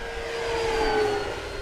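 An FMS 1700mm Corsair V3 RC warbird on a 6S power system with a new propeller passes overhead, its electric motor and prop making a steady, whining drone that swells slightly and then eases, with no talk.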